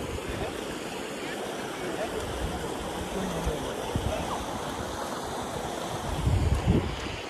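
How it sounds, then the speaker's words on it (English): Creek water flowing outdoors at Little Creek in Fontana, a steady broadband rush and splash near the microphone with some wind buffeting, continuous for several seconds and a little louder at the end. "By the way, this is Little Creek in Fontana."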